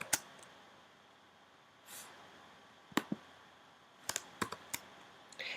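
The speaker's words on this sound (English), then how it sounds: "And then I start typing my name." Sparse keystrokes on a computer keyboard, a few isolated sharp clicks followed by a quicker cluster of taps, close and quiet in a still room.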